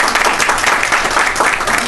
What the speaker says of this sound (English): Let's give a round of applause to Scrooge.